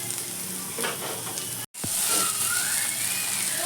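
Okra frying in a pan gives a steady broadband sizzle with light stirring scrapes, briefly cut to silence partway through before resuming just as loud and close.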